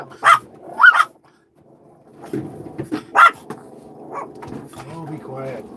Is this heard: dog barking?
yes